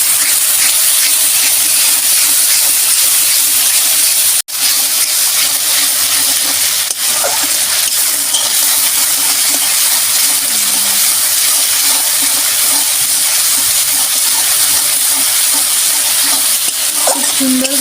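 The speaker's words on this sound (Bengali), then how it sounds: "এবারে আমি এখানে ফেটানো টক দই আছে, এটা দিয়ে দেবো।" Whisked sour yogurt hits hot spiced oil in a pan and sets off a loud, steady, close sizzle that roars on without a break, with a few faint stirring knocks.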